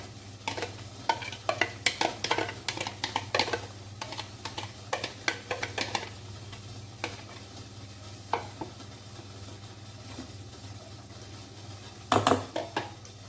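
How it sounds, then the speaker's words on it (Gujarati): Vegetables being stirred into idli batter in a bowl: close, irregular scraping and clinking from the spoon, with a brief louder flurry near the end and no speech. "બરાબર મિક્સ કરી લઈશું."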